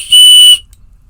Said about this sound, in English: also on there I have a very small whistle